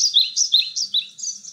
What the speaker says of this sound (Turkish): Kuş sesi koyalım mesela.